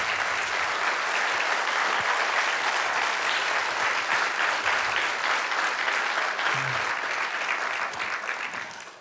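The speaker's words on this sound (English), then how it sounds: "We'd love to just say thank you and give you a round of applause." A church congregation gives sustained applause for military veterans, a dense, even wash of clapping from a large crowd that carries for several seconds and tapers off at the very end.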